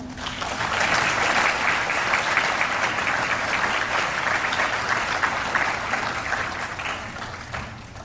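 A crowd at a Daviess County, Indiana Right to Life event breaks into applause, a full, sustained round of clapping that swells quickly, holds steady, and thins out near the end.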